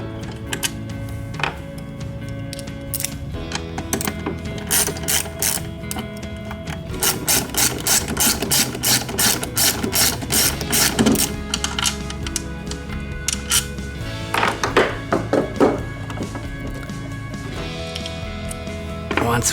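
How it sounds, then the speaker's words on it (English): Screws come out of a GRAMMER MSG75 seat's weight adjustment housing under a Torx T40 driver, giving rapid, repetitive mechanical ratcheting clicks in bursts with short pauses, steady and close throughout. "You're going to need a T40 plus. You can remove these screws here."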